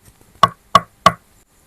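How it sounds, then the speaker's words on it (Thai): Three sharp, evenly spaced knocks on a door, loud and close, with silence around them. "ขณะนั้นเองเสียงเคาะประตูก็ดังขึ้น"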